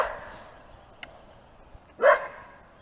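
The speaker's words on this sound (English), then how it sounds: "Buddy is a white heeler, and Copper is a hound dog red heeler mix." A red heeler and hound dog mix in a backyard gives a single loud bark near the end after a mostly quiet stretch with a faint yip earlier.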